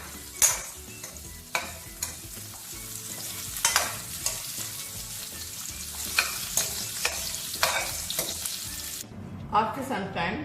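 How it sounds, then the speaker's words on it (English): Potato and tinda pieces fry in oil in a kadai, a steady sizzle broken by sharp scrapes and stirs of a spatula against the metal pan. A brief splash of running water comes near the end. "Now you can add tinda to it and also fry for a few minutes."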